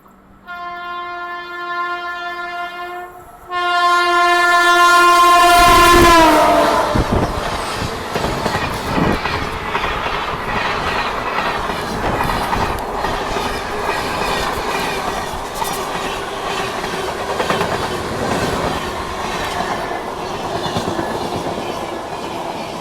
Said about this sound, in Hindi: सामने से भी कोई ट्रेन आ रही है।